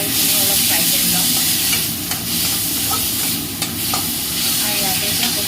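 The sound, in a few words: frying small tomatoes with turmeric in a pan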